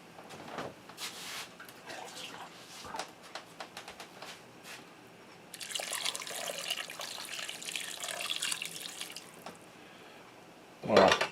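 Tap water runs into an old roaster to cover hot beef with crushed peppercorns, a steady hissing pour that swells in the middle and ends with a short clatter, close and moderately loud.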